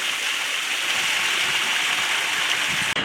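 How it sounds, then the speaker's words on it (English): Steady rushing water from a waterfall set in the rock work of an indoor aquarium salt marsh exhibit, a constant broadband splash that stays loud and even throughout with a brief dip at the very end. "Love all the rock work, waterfalls."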